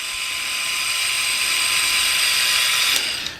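A SEESII cordless caulk gun runs with its trigger pulled, a steady high-pitched motor whine held close and loud for several seconds, ending with a couple of sharp clicks.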